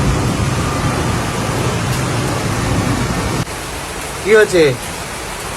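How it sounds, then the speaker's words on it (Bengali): Heavy rain pouring outside during a monsoon downpour, a dense steady roar that fills most of the clip, then drops quieter as a voice speaks briefly near the end. "মারাত্মক বৃষ্টি হচ্ছে।"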